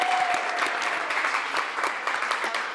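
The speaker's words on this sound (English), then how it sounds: "Give them a final round of applause" A final round of applause for Dentsu at a social purpose marketing awards show, dense, steady clapping from an audience lasting the whole few seconds.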